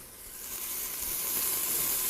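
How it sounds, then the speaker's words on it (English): Chopped garlic dropped into a hot pan, giving a steady close sizzle that swells and holds as it fries. "when you're cooking and you throw the garlic in"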